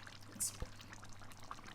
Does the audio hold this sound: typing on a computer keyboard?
no